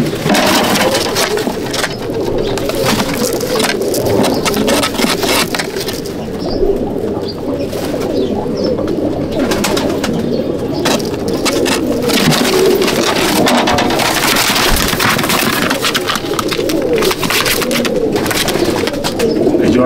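Domestic pigeons in a loft at Howrah coo in a dense, continuous chorus of overlapping throaty calls, close and loud, with rustling and wing movement throughout.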